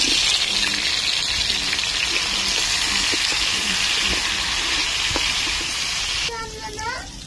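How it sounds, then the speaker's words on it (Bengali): Potatoes fry in hot oil in a pan over a clay stove on a rooftop garden, giving a steady, dense sizzling hiss throughout; a voice briefly rises near the end. "তেলটা একটু গরম হয়ে আসলে আলুগুলো দিয়ে নেব।"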